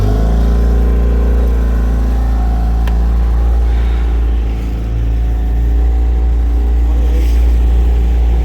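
A Tohatsu 9.8 outboard motor idling on a small 4.5 m boat on the water, a loud, steady, low drone close by with no change in pace and no speech.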